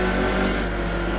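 Toyota Camry stock car engine in the racing game NASCAR Heat 2, a steady loud mid-pitched drone held at constant revs with no talk over it.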